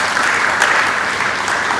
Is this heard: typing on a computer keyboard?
no